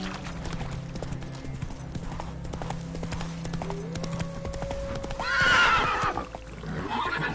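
Hooves of the horse Roach clip-clop steadily in a video game, a loud neigh rising near the end over a low ambient hum, with no talk.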